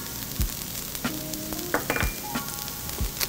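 An onion and pepper mixture sizzles steadily in a hot pan as spices and garlic go in for shakshuka, with a constant close frying hiss broken by occasional clinks and scrapes of a utensil.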